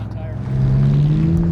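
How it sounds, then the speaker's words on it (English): Race cars, including a Subaru and a heavy Chevy full-size truck, revving hard around a backyard dirt course, one engine rising steadily in pitch as it strains, loud and close, with a commentator talking over it. "That Subaru is working hard to get around."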